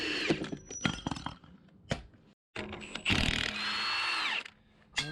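A Milwaukee power tool spins loose a bolt on a Cummins diesel engine, loud close bursts of whirring and ratcheting that start and stop, then one long sustained run near the end.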